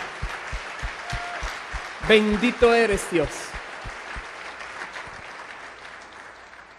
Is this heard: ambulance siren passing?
no